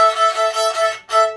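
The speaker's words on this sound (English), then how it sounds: "If you play two strings at the same time, it sounds like this." Two violin strings bowed together in a sustained double-stop chord, with a brief break before the bow resumes for a short final stroke.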